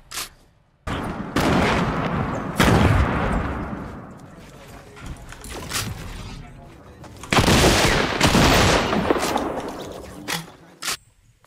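A double-barrel shotgun fires in a video game: loud, close blasts repeat irregularly, with rumbling echoes between them and someone talking underneath.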